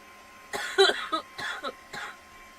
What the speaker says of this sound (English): you'll just have to listen to me cough